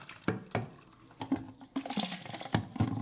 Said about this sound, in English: The next step per the instructions is to rinse 7 times, to fill it 7 times.